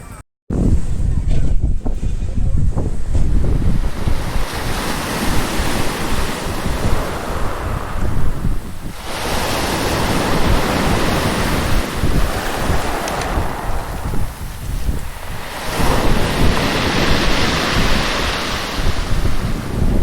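Loud, steady sea waves rolling in at Puri beach, breaking and washing continuously with heavy wind rumble over the microphone, surging in repeated swells and no voices.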